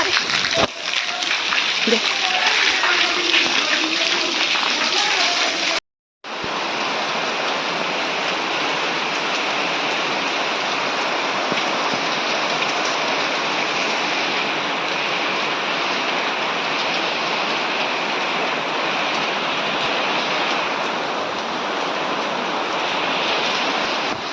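Heavy rain roars steadily as a dense, broadband wash with no letup, broken only by a brief cut to silence early on.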